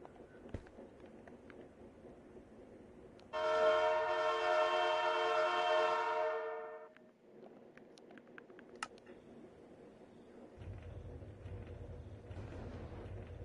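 A Minecraft train horn blares steadily for about three seconds, loud and close, then fades out, leaving quiet rumbling machinery underneath.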